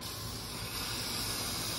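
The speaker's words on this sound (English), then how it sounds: "I just spray the whole shoe with Lysol" Aerosol Lysol disinfectant sprayed into a shoe, a steady close hiss running unbroken with no pause or talk.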